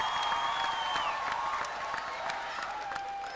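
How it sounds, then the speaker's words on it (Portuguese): Applause from a studio audience at a Vodacom school-quiz gala show, a steady wash of clapping sustained throughout with tonal music or effects ringing above it. "Uma salva de palmas para todas as equipas que participaram."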